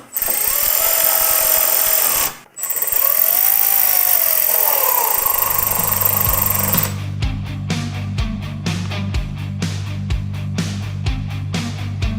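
A power driver fitted with a Torx 27 bit whines steadily, then shifts to a rapid, pulsing rattle as it works a screw, loud and close with no talk.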